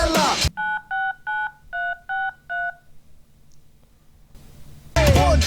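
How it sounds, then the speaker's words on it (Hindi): Seven short, evenly spaced touch-tone telephone dialing beeps play clearly in a quick rhythm, framed by brief bursts of voice before and after. "Pick up the phone and dial up."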